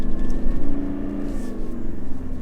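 A Toyota Land Cruiser 300 drives over sand dunes, its engine humming with a steady, moderately loud whirring drone heard from inside or close by.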